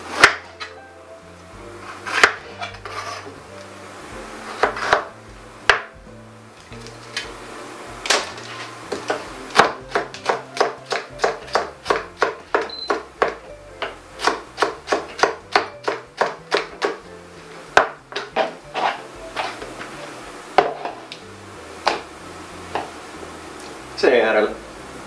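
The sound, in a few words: chopping onion with a knife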